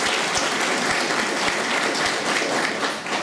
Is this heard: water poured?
no